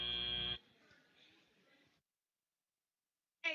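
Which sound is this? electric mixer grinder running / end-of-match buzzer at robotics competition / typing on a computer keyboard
end-of-match buzzer at robotics competition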